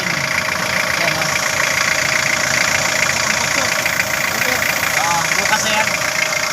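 Toyota Hilux with a 2L diesel engine idling with a steady, continuous rumble; people talk over the engine noise throughout.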